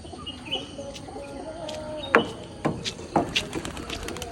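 Pigeons released from a loft during training, with scattered wing claps and flutters as birds take off, several sharp bursts amid soft bird calls and chirps in the background, outdoors.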